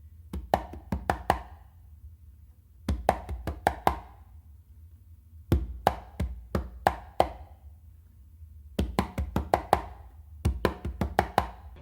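Congas play the ending phrase of a songo pattern in short bursts of rapid slaps and tones, four or five clustered hits per burst separated by brief pauses, close and fairly soft.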